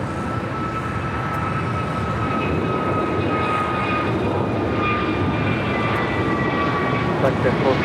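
An American Airlines airliner takes off from runway 25 Right at LAX, a loud, sustained engine roar with a steady tonal whine running throughout.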